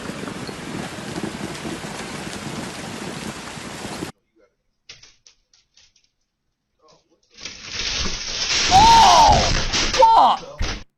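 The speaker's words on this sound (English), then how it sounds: "Oh my god, that hail." Hail hammers a building during a home livestream: a dense, steady clatter fills about four seconds and then cuts off sharply. After a quiet gap, a loud burst of noise comes in with a voice shouting over it.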